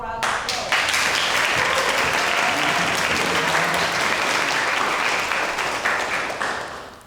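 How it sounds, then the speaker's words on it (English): Audience applause at a comfort women survivors' event, a dense sustained clapping from a crowd that holds steady for several seconds and then fades near the end. "Let's give her a round of applause."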